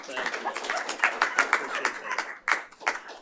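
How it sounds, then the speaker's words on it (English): Applause at a board meeting, a small group clapping with distinct, uneven claps that come in scattered bursts and fade out, not a full thick crowd. "So I would love to represent this to you with a round of applause"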